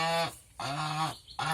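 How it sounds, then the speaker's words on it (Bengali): A crested goose gives three loud, close honks, each a harsh nasal blare separated by short gaps, with no voices over them. "এই যে টোপওয়ালা হাঁস"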